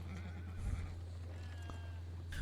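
A horse neighs and whinnies for about two seconds, with a steady low hum running underneath, close and moderately loud, ending in a brief bright rustle.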